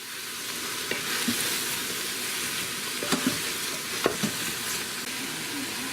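Lemon mushroom orzo sizzles steadily in a pan while being stirred, with a constant hiss broken by a few short scraping strokes and light clinks.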